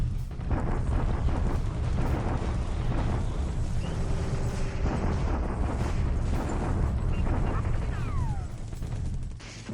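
Continuous rumbling artillery bombardment in a World War II strategy game, a dense, steady wall of low booms and blasts running throughout with no gaps.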